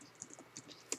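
Light, quick keystrokes on a computer keyboard during the setup of a PC game, a few scattered close clicks, faint and sparse.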